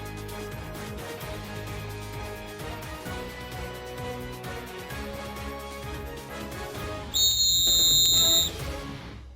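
One long, shrill football referee's whistle blast cuts through steady background noise near the end, loud and piercing, lasting over a second.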